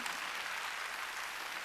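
A church congregation applauds at a Wednesday worship service, a dense, steady wash of clapping that fills the space without pause.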